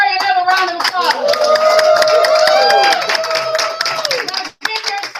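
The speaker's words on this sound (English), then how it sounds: "Let's give Mr. Murry another round of applause." Audience clapping rings out steadily at a live business event, mixed with tonal music and fading toward the end.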